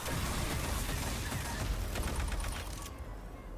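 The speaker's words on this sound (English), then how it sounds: "Drawn by the gunfire." Sustained, dense gunfire from the video game Aliens: Fireteam Elite forms a loud, continuous roar of overlapping shots that fades slightly at the end.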